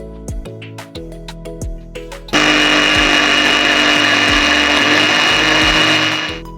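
A mixer grinder blends mango and sugar for a mango shake. Scattered clunks and taps come first, then the motor starts and roars loudly and steadily for about four seconds before winding down.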